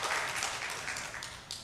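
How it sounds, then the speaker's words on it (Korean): A church congregation claps during a Sunday worship service, a short burst of even, fairly close applause that holds steady before tapering slightly. "이 정도 되면 박수 한번 나와야 되는 거"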